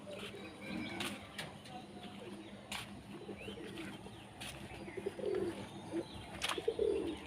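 Domestic pigeons, one of them moulting in the sun, give soft, low repeated coos nearby, with scattered sharp clicks and faint chirps over a quiet outdoor background.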